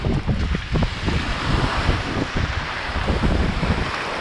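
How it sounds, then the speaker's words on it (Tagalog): Strong sea waves and gusting wind out on the open sea, heavy wind rumble buffeting the microphone over the wash of surf, loud and continuous with no voices. "May lakas ang alon."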